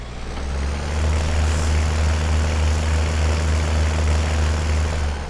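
A Deutz-Fahr tractor's engine idles loudly close at hand with a trailer hitched, a deep, steady throbbing drone that holds constant the whole time.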